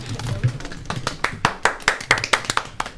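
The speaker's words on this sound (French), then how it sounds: "Ouais, ça s'applaudit quand même" Scattered hand claps from a small, lively crowd, a string of sharp close claps building in density, with some voices and low murmur underneath.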